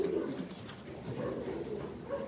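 A pair of pure Taiwan racing pigeons coo softly in a loft, with low, rolling calls repeating close by over a faint background hum.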